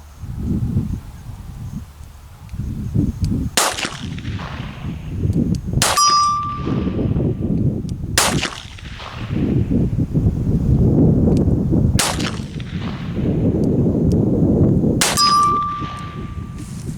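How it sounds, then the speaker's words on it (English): A Smith & Wesson .38 Safety Hammerless New Departure revolver fires five sharp shots spaced a few seconds apart, two of them ringing off a steel plate with a bright metallic clang amid outdoor background noise. "So we're going to shoot at that plate and see what we can do."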